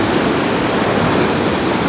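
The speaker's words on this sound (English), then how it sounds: "I've tried to catch a few shots as the waves come in on this huge set of rocks" Waves surging in over a row of large rocks offshore on a Japanese island coast in Kanagawa, a dense, continuous roar of churning surf with no voices.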